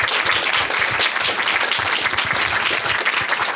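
Loud, dense applause from an audience at an academic distance-learning talk fills the room for a few seconds, a thick, steady roar of many hands clapping together.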